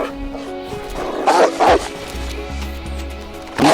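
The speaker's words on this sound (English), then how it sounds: "And then I hear a dog." A dog barks in the survival video game DayZ: three loud, close barks spaced irregularly over background music.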